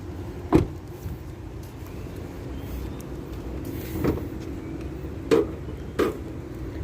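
Bonnet latch release on a 2023 Perodua Alza 1.5L: a few sharp mechanical clicks and clunks at irregular intervals, close and moderately loud over a quiet background.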